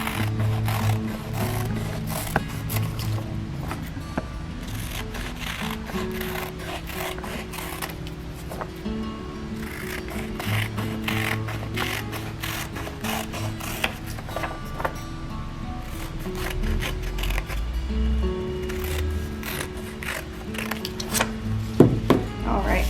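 Scissors cut through a stack of book pages at home, a close, steady stream of repeated crunching snips, with some talk now and then.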